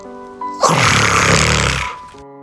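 A sleeping father in a Ukrainian children's audio tale snores loudly. One long, rasping snore rises and then fades over a soft background tone.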